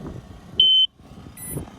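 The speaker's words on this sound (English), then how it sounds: "Every beep you hear while it's flying, it's taking pictures." A drone gives a single sharp, steady electronic beep as it takes a picture, lasting a fraction of a second over low background rumble, followed by fainter high tones.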